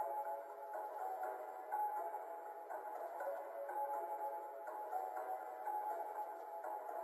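Synthesized eerie bells ring in a steady, sustained wash of shimmering midrange tones and high overtones, moderately loud and continuous with no talking.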